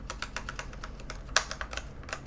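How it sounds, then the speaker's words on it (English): Clicky tactile computer keyboard keys clacking in rapid, uneven typing bursts, each keystroke a crisp close click, with one louder bottom-out strike partway through. "maybe the keys are a little bit heavy. And maybe it's a bit clacky"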